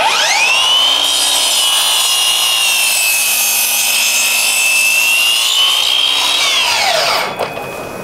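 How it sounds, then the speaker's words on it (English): A new Milwaukee cordless saw running on a high-output battery makes a compound cut through wood, a loud, close, steady whine lasting about seven seconds before spinning down abruptly. "So we're gonna put a compound cut through that"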